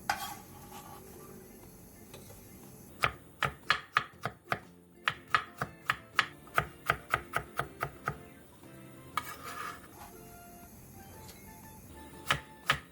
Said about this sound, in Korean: 양파 2분의 1개와 당근 조금을 채 썰어주세요.